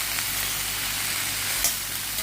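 Broccoli and plenty of garlic sizzle in a pan for a pepper fry, a constant close crackle with a few sharper pops from stirring.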